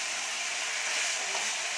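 Small chuno and Morola fish frying in hot oil, a soft, steady hiss and crackle of sizzling throughout, fairly quiet and close, with no talking.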